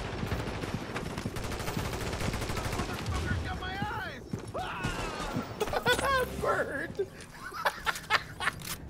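Rapid video-game gunfire from The Division crackles in bursts, with machine-gun volleys and scattered shots. Players talk and laugh over the shooting.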